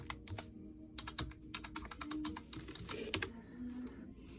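Username and password typed on a computer keyboard in quick bursts of crisp key clicks, close and fairly quiet, with short pauses between runs.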